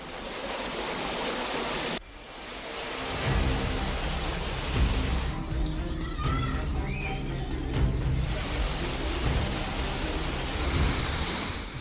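Heavy rain pours continuously in a dense, broadband hiss with low rumbling underneath, loud and close after a brief quieter opening, with no clear distinct thunder cracks.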